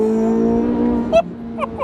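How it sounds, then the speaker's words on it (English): C8 Corvette exhaust rumbling steadily through downshifts, with sharp pops and blips cracking out near the end over the sustained engine drone. "Oh man, the downshifts."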